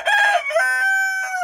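A newly added rooster in a backyard chicken coop crows once, a loud, close, drawn-out cock-a-doodle-doo with a rising start and a long held middle, heard alone with no talking.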